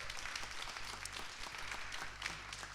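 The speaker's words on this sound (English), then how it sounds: "another round of applause for the 5 teams who had the courage to take the stage here" Applause at a venture investment forum for five teams who pitched on stage: continuous clapping from a seated crowd, fairly quiet and distant over a low electrical hum, holding steady throughout.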